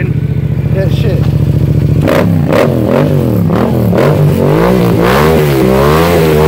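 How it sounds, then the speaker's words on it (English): A motorcycle engine revs hard in gear, spinning the rear wheel to fling dirt off the rims, loud and close with rising and falling pulses of revving that continue through the whole stretch. "start your bike up, put that biatch in gear, let it rev up a bunch"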